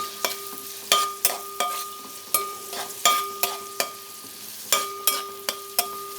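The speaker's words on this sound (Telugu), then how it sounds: "స్టవ్ హైలో పెట్టుకుని ఫ్రై చేసుకో." Shredded cabbage and onions frying in a pan on high heat, a steady sizzle broken by repeated sharp scraping stir strokes at an irregular beat, close by and with no voices.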